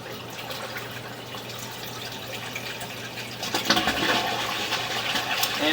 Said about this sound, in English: we're running some water and flushing the toilet